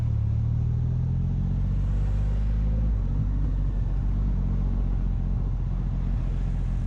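A Triumph Rocket 3 R Black Limited Edition motorcycle is ridden in traffic, its engine a steady, heavy low rumble that holds throughout with a slight rise partway in.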